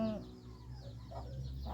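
Chickens clucking close by, short scattered clucks over a low steady background hum, with no talk.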